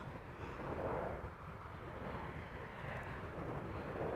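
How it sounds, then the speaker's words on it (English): An Embraer 190 arriving from London City at Amsterdam Schiphol gives a steady, faint jet rumble with a gentle swell, heard alone at a distance. "Nice cloudy backdrop against which this Embraer 190 arriving from London City is flying."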